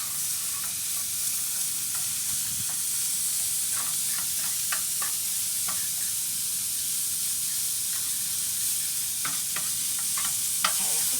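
Goulash with chili powder and garlic powder sizzling in a pan, a constant bright frying hiss with scattered scrapes and taps of stirring up close.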